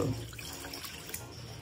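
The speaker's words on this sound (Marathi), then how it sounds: "पाणी आता ह्याच्यात टाकू मस्त" Water pours briefly into a container for a lemon drink, a soft, quiet splashing trickle lasting under two seconds with no talking.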